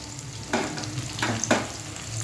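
Onions fry to a deep brown in a pan, a soft continuous sizzle punctuated by three brief stirring scrapes close by.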